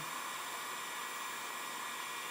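A heat gun blows steadily and alone while warming the edge of a vinyl side number plate graphic on a 2017 Honda CRF450, a constant airy roar with no breaks.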